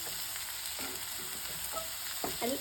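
An egg fries in a pan with a soft, constant sizzle and crackle, joined by a few faint scrapes and taps of a utensil.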